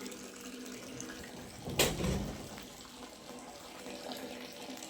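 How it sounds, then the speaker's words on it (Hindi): Water flows from a well pipe in a steady, moderately faint rushing wash, with one brief louder gush and splash about a third of the way through. "पानी भी आने लग गया देखो, हाँ पानी आ रहा है देखो"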